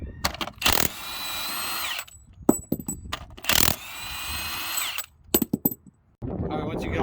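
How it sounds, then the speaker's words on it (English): Bursts from a power impact tool with a 1 1/2 inch socket spinning off lug nuts from an Oshkosh M1070 HET truck wheel hub, loud repeated whirring runs broken by metallic clinks and short gaps. "You're going to take off the 10 lug nuts that hold the wheel onto the hub."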